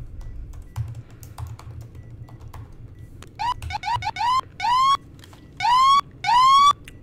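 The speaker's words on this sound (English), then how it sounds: "Wow, them sirens." Rising and falling siren wails in Aigio, Greece, start after a few seconds, growing louder and clearer in repeated long sweeps over a low background rumble.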